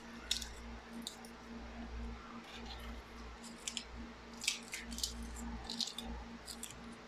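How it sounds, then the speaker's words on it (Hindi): Crisp homemade papdi is dropped onto chole chaat in a quiet kitchen, giving scattered light crunchy rattles and clicks in irregular bursts over a faint steady hum. "अब हम ये पापड़ी डालेंगे।"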